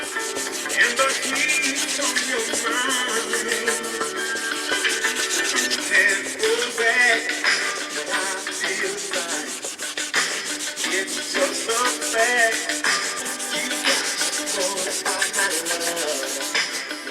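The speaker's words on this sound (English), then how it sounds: "I'm gonna take this Scotch Brite, this maroon Scotch Brite, and just start sanding everything again." Steady abrasive rubbing of a maroon Scotch-Brite pad scuffing painted LS engine parts such as valve covers and an intake manifold, continuous and close for the whole stretch with no talking.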